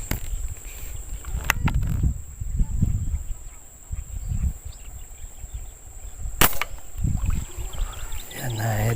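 Air gun shots while fishing, with two sharp, close cracks several seconds apart over low rustling, splashing and handling noise.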